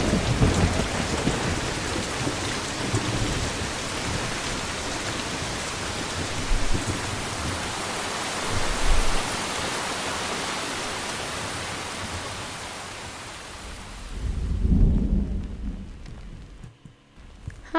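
Heavy rain pours in a dense, steady hiss while thunder rumbles low beneath it. A deeper roll swells near the end before the sound cuts away.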